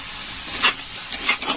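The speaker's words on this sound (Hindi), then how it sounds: "अब इसे हम अच्छे से फ्राई कर लेंगे।" Drumstick curry masala with chopped tomatoes frying in a pan, a soft continuous sizzle with a few brief brighter bursts of stirring, close and moderately quiet, no voices.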